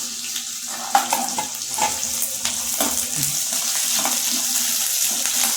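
Curry leaves dropped into hot oil with onions while making a Tamil-style carrot, avarakkai and beetroot poriyal: a steady frying sizzle with scattered crackles and pops throughout, with no talking.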